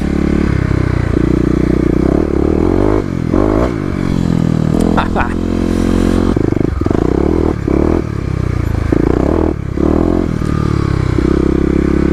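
Kawasaki KLX250 dirt bike engine revs and rises under load as its tires spin on leaf-covered pavement, loud and close, with scraping clatter and a rider talking over the noise.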